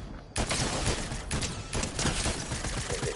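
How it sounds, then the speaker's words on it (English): Rapid gunfire in a Fortnite match erupts abruptly after a brief quiet moment, then continues as a loud, dense fusillade of repeated shots with a few short pauses. "Somebody shooting at me."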